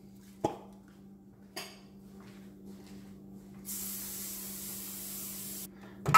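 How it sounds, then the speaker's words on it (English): After a few light clinks of a pan, an aerosol can of cooking spray hisses steadily onto a baking pan for brownies for about two seconds, close and fairly quiet. "I got my pan sprayed"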